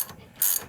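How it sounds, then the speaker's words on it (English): A ratchet wrench clicks briefly while loosening a bolt on a truck's coilover suspension, a short, close burst of metallic pawl clicks. "This is one of those ratchet wrenches, but only part-time."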